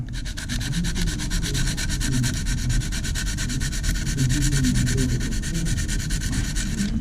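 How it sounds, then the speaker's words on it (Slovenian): Filler being sanded on a scale model airplane, a steady continuous abrasive rubbing that holds at an even loudness throughout with no pauses and no voices. "In lahko takoj pobrusite tole stran."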